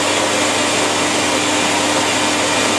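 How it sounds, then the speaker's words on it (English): A DuMore tool-post grinder running steadily while it grinds the inside of lathe chuck jaws, a loud, constant broadband whirring hiss with no pauses and no voices. "And you turn on this DuMore Grinder."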